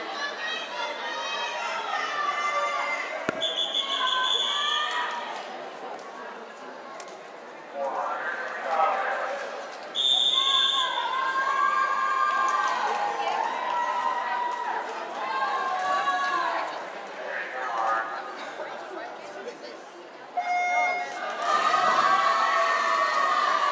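Crowd at a high school swim and dive meet cheering near the end of the meet, a continuous loud wash of shouts and whistles with chatter and a few sharp tonal bursts over the noise of an indoor pool.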